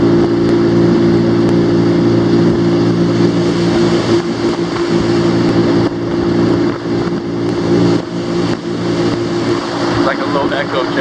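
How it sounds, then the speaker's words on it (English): A motorboat engine drones steadily and loudly as the boat passes beneath a structure on a lake lined with large lakeshore homes, its tone slightly shifting and echoing throughout. "I love the way it sounds when my boat goes under this."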